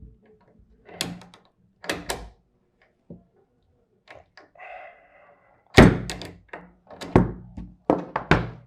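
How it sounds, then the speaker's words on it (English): Angle stop valve being removed from a plumbing supply line with a wrench for leverage, giving scattered knocks, clunks and metallic thunks at close range, with quiet gaps and a brief scraping rustle between louder impacts. "Now with good leverage, we remove the emergency stop."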